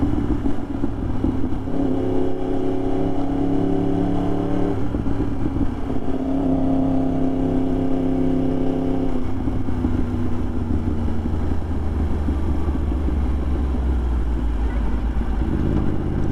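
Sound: Yamaha R1 motorcycle engine while riding

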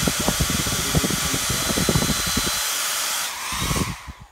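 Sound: hair dryer on high setting

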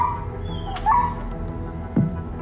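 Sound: young German Shepherd dog in distress after being hit

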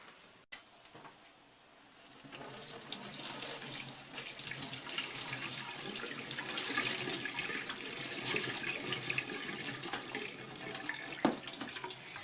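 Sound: boiling water poured over onion in a sieve

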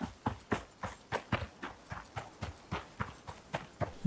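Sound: warthog moving, from the video game ICARUS

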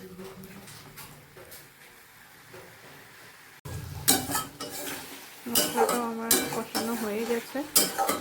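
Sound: sautéing potatoes in fish curry, stirring in pan

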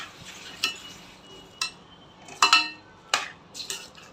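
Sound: stirring cauliflower and peas in a cooking pan

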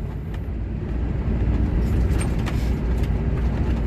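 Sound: truck driving on the road

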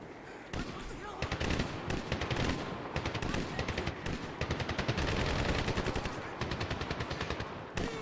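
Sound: gunfire in the video game Medal of Honor 2010

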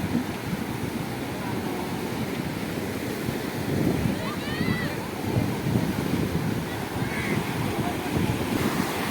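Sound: sea waves close by

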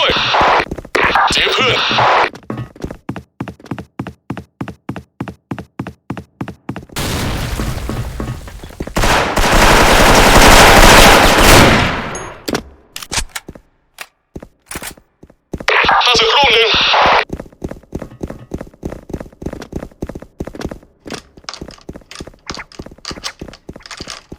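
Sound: gunfire in Counter-Strike video game

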